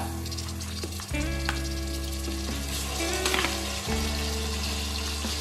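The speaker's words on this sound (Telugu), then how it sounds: "ఇప్పుడు దీన్ని నేను ఉల్లిపాయలు దాంట్లో యాడ్ చేసేస్తున్నాను. ఇక్కడ ఫ్రై అవుతుంది కదా, దాంట్లో వేస్తున్నాం అన్నమాట." Mutton and onions fry in a pressure cooker with a loud, steady sizzle, mixed with a sustained tonal hum and occasional stirring clatter. No one talks.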